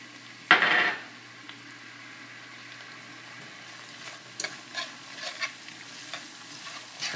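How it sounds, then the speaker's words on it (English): Mushrooms and fish sauce sizzle gently in a pan, opening with a brief clatter as they go in, then a quiet, steady fry broken by scraping stirs toward the end. "we're going to add the mushrooms in there so they can cook down a little bit."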